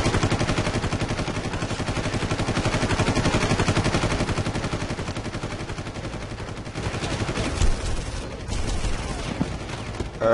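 Sustained automatic gunfire from the video game Far Cry, dense rapid bursts filling most of the stretch, loud and close, thinning briefly near the end.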